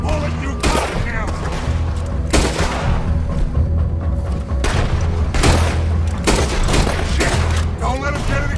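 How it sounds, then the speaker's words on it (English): Gunfire in Red Dead Redemption 2, loud repeated gunshots cracking at irregular intervals over a low rumbling backdrop, with voices calling out amid the shooting. "Put every bullet you got in him!"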